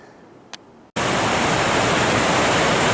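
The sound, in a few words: rushing water of a mountain creek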